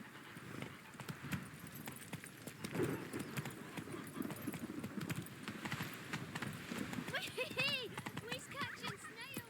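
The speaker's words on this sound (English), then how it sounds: "Whoa there, Roach" Horse hooves clip-clop at a steady trot in The Witcher 3 video game, heard close and continuous with soft ambient noise and brief character voices.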